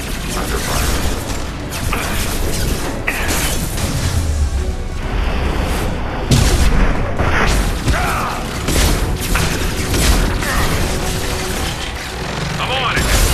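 Sustained gunfire and booming explosions from combat in the video game Mass Effect 2, loud and continuous throughout, with dense bursts and impacts and voices calling out over the battle.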